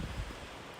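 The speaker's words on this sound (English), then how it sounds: "But then you'll just get these roaring," A roaring gust of wind sweeps through the White Mountains, a dense, broadband rush that buffets loudly at the start and then holds steady, with heavy low rumble.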